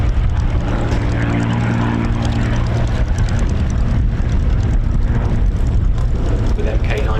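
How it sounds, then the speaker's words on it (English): D-Day Spitfire MK912 leading a pair of propeller warbirds in formation at an airshow, a strong throbbing piston-engine drone that swells and fades, with a voice talking over it. "With MK912, that D-Day Spitfire leading the pairs formation, coming round from our left"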